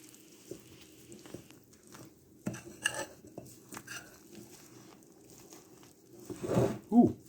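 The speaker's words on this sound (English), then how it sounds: "I'm going to mix it together." Eggs and almond milk are stirred together in a bowl, with scattered soft clinks and sloshing taps, quiet and intermittent, ending in a couple of louder knocks close by.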